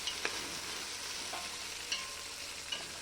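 Meat and tomato frying in a pot with seasoning and salt: a steady close sizzle with a few sharp scrapes and clicks from stirring.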